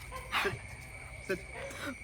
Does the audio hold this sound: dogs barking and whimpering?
yes